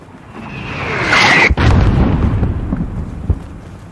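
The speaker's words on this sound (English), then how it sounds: "There's still a mortar out there." Mortar blasts in Call of Duty Modern Warfare: a rising whistle swells into a heavy explosion, followed by a rumbling tail and a further thud, loud and close.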